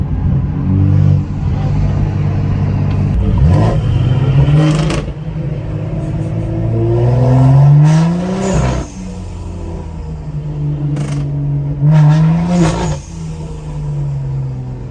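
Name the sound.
BMW M240 and manual 235 cars accelerating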